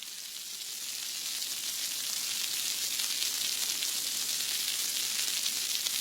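Pui shak greens and taro frying in a pan, a bright, continuous sizzle that swells after the first second and then holds steady, close and alone with no voices.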